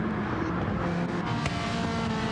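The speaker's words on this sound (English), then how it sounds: "it is a very good sounding car. An Italian V8" An Italian V8 race car engine on the Daytona road course, a loud, continuous high-revving drone with steady harmonic tone, heard without voices.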